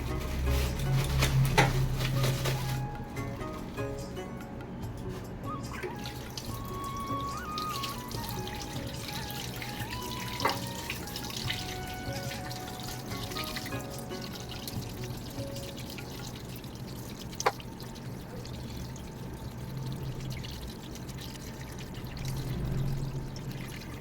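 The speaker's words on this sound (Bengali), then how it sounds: "এই যে মাছ, চলো মাছটা ধুয়ে নিই" Water from a kitchen tap pours and trickles steadily while fish is rinsed at a sink, a continuous running flow with occasional drips and small clinks, fairly close and with no one speaking.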